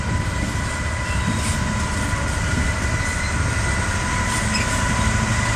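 Class 66 locomotive 66727 hauls a heavily loaded Maritime container freight past the platform at Eastleigh station, a sustained close roar of wagons rolling over track with light high-pitched wheel squeal.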